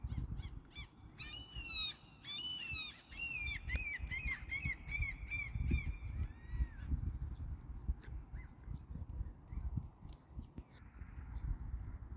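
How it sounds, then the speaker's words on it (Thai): Morning birds call in rural Thai countryside, a series of clear repeated whistled and warbling notes in the first half over a low rumbling background, with faint distant sounds later and no clear talk. "ฟังเสียงธรรมชาติไปนำจ้ะ เสียงนกห้องยามเช้า"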